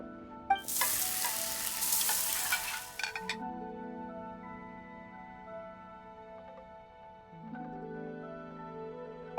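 Food sizzling and frying in a pan in Genshin Impact, a loud hissing burst for about two seconds with light clinks, then fading into soft game music tones.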